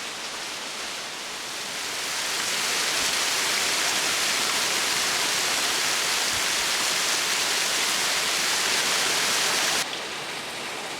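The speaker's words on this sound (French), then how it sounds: "je vous ai présenté la cascade aux salamandres" A forest waterfall that is home to salamanders pours with a dense, hissing rush that swells over the first seconds, holds steady and loud, then drops back abruptly near the end.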